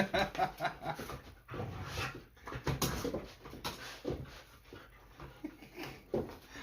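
A pet dog indoors chews and gnaws on something close by, with soft grumbling, snuffling and panting breaths in a quiet, uneven rhythm.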